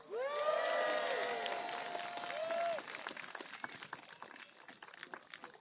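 A crowd at a Pedal on Parliament cycling rally cheers and whoops, with loud overlapping shouts and whistles at first that fade into scattered claps and murmuring.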